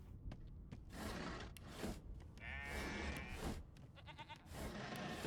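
A sheep bleats a few times in the video game Divinity: Original Sin 2, amid steady background noise, with no talking.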